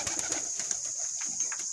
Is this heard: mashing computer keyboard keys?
no